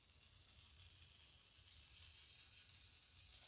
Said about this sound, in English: It's sizzling, so at least I know now it's cooking.